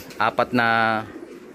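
A pigeon in a breeding cage gives a single close, clear coo: two short throaty notes and then a longer drawn-out one, heard alone.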